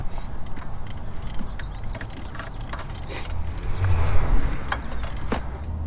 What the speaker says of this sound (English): now I'm gonna start turning the engine clockwise because this is the direction it turns